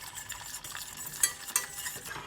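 Butter browns in a pan for an apple cinnamon tart, giving a steady crackling sizzle with a couple of sharp pops and light stirring scrapes, close and alone.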